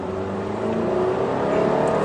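Engine of a 2019 Volvo XC60 T5 Momentum with its turbocharged 250 horsepower motor pulling steadily under acceleration, a continuous smooth drone heard from inside the car, no voices.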